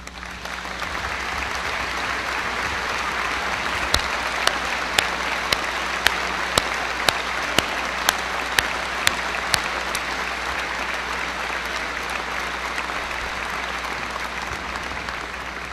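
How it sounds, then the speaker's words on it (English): An audience at a 2016 high school graduation ceremony applauds steadily for alumni asked to stand, a broad continuous clapping with a run of sharper individual claps standing out partway through. "let's recognize these people with a big round of applause"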